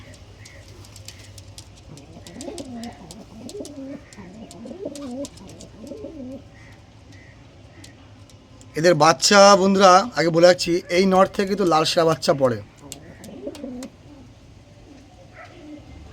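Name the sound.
pigeons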